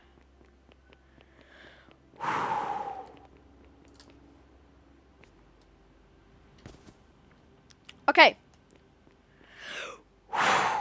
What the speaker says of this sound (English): I'm sorry that I'm breathing pretty heavy